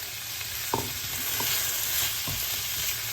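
Baguio beans, or green beans, stir-fry in a pan with a constant hissing sizzle and a few soft scraping stirs, close and unbroken by speech.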